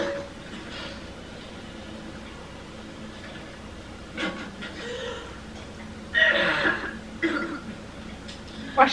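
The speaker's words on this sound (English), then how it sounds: "Why she keep coughing like that?" Someone in a short horror film coughs in several rough bursts, fairly close, over a low background with faint talk mixed in.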